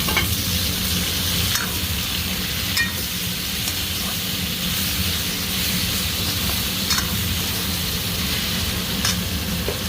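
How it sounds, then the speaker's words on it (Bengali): Onion with ginger-garlic paste frying in oil sizzles loudly and steadily for the whole stretch, with occasional faint scrapes and clicks of stirring close by. "ভালো মতো ভাজা হোক, পেঁয়াজের সাথে সাথে আদা রসুনের পেস্টটা ভাজা হয়ে যাবে।"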